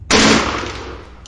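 Black powder guns fire as a single loud, sharp volley that cuts in suddenly and rings out into a long, fading rumble, with no talk over it. The scene is a tabletop battle report for Turnip 28.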